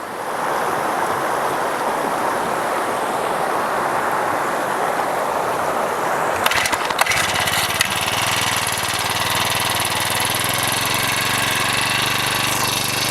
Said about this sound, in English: all we got to do now is fire the pump up